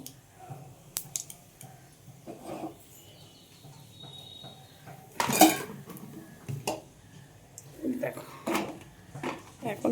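Pots and utensils clatter and clink in a home kitchen while spicy chickpea greens are cooked, with scattered knocks and one louder burst of scraping near the middle, under intermittent talk.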